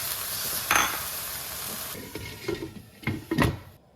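Chopped tomatoes being stirred in a hot pan, steady sizzling at first, then a series of wooden scrapes and soft knocks against the pan before it falls quiet.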